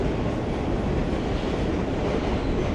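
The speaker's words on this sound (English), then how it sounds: "there goes the train" Train crossing a bridge in Manhattan, New York City, a continuous heavy rumble and rattle of wheels on track, steady and fairly loud without any talking.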